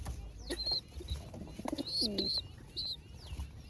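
A fancy pigeon coos softly while feeding its chick, giving a few low, close coos mixed with thin chirps and faint rustling against a quiet background.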